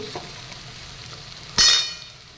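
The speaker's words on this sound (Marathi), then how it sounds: "मी इथे कढीपत्ता घालते" Curry leaves dropped into hot oil for a masoor tempering set off a sudden loud, hissing sizzle after a quiet low simmer, then fade gradually over the next second.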